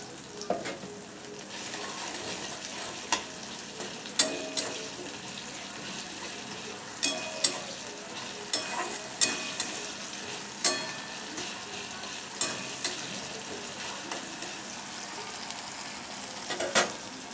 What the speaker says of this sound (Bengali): টমেটো আর পেঁয়াজ যাতে তাড়াতাড়ি ভাজা হয়ে যাবে, নরম হয়ে যায়, তার জন্য পরিমাণ মতো লবণ দিয়ে দিলাম।